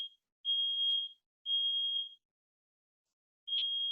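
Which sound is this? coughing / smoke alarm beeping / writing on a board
smoke alarm beeping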